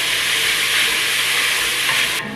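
Chorizo searing in a hot pan, a loud steady sizzle that holds evenly and then drops off sharply at the very end, with no voices.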